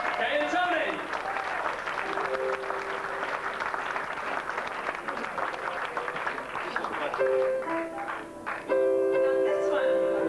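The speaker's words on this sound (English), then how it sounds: "let's have a big Alberstown round of applause for Kay, who's putting her shoes on, and Tony" Audience applause for performers Kay and Tony at a variety show: steady, dense clapping from a crowd sustained across the whole stretch, with music tones and voices rising under it toward the end.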